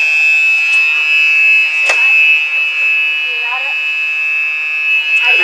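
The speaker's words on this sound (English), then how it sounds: "We're probably going to set off an alarm" Airport security alarm sounding, a loud steady high-pitched electronic tone held continuously, with a few sharp clicks and some brief chirps over it.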